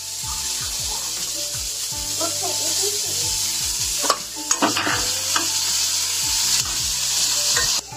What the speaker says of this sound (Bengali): এবার দিয়ে দিলাম পেঁয়াজ কুচি।